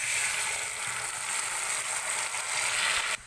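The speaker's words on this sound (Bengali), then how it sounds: "তো আমার পটল ভাজার তেলের মধ্যেই আমি এই প্রথমে ফার্স্টে আমি সর্ষেটা ঢেলে দিচ্ছি।" Ground mustard paste goes into hot oil left from frying pointed gourd, and it answers with a short burst of bright sizzling that holds steady, then cuts off abruptly at the end.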